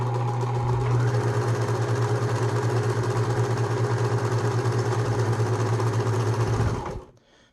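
A Husqvarna Viking 190 sewing machine sews a multi-point zigzag stitch, a steady close mechanical whir with a fast even pulse that runs for about seven seconds and then stops.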